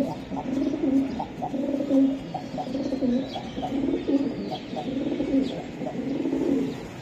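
Pigeons of racing high-flying breeds, including cream-eyed birds, coo continuously in a steady, nearby chorus of low, rolling calls, with no talk over them.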